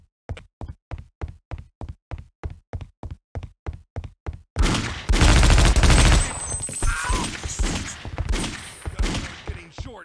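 Gunfire from the Half-Life: Opposing Force video game: a steady run of about a dozen evenly spaced single shots, then a dense, loud burst of rapid fire and blasts that rumbles on to the end.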